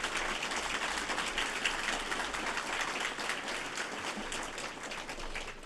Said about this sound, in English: Yes, let's applaud that.